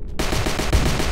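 Rapid automatic gunfire from a weapon in the VR shooter HordeZ, a loud continuous burst of evenly spaced shots filling the whole moment with no talking.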